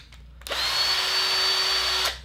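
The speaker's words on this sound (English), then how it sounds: "take your power drill" A handheld power drill whirs steadily for about one and a half seconds while spinning a sewing thread bobbin, a loud sustained motor whine with a high tonal pitch that starts and stops abruptly, no talking.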